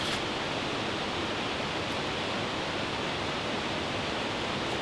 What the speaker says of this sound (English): So we use the river as a white noise.